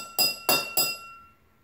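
A metal fork struck on its thicker side rings out three times in quick succession, each bright clink decaying into a sustained, clear metallic tone that fades alone.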